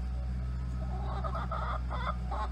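A tiny Mille Fleur Belgian bantam hen named Buttercup gives soft, short clucks over a steady low hum of farmyard background noise.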